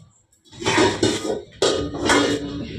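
A large wok being set down on a stove for frying fish, giving two clanking metal-on-metal bursts with a rattling ring, near and fairly loud, with no talk.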